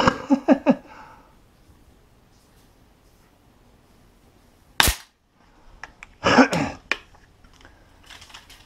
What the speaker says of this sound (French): j'ai tiré une quarantaine de plombs, même une cinquantaine